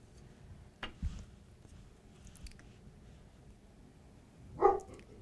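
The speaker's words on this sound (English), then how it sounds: "There's also a dog here" A dog indoors gives a couple of faint, distant barks, a short one early and a louder one near the end, over quiet room background.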